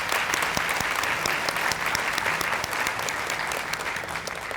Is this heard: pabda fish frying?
no